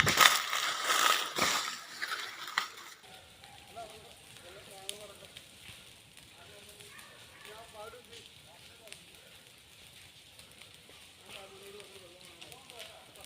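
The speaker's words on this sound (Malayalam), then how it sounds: "റബ്ബർ തോട്ടങ്ങൾക്ക് തീപിടിച്ചു" Fire burning through rubber plantations gives a loud, dense roaring crackle for the first few seconds, then fades to a faint crackle beneath people talking.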